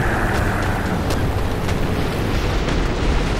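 Heavy, rumbling explosions as tank shells hit in War Thunder, with dull booming impacts over a continuous loud roar.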